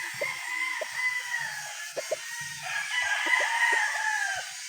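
A Boston Black gamefowl rooster at a gamefarm crows in a long, steady, high drawn-out call lasting several seconds, with soft clucks and farmyard sounds underneath.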